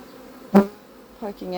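Angry honey bees during a hive split, a sharp close buzz flaring briefly, then further short buzzy bursts near the end against quiet.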